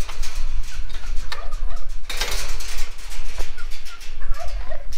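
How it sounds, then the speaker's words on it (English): Backyard chickens at feeding time clucking and squawking together, a dense continuous flock chatter close by with bursts of louder calls, no talking. "it's time to take care of the chickens"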